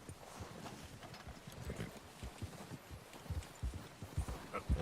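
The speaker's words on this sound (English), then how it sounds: "I'm trying to speed up the horse" Horse hooves in the video game Red Dead Redemption 2, a soft rhythmic clip-clop of a walking horse, fairly faint and steady throughout with no talk.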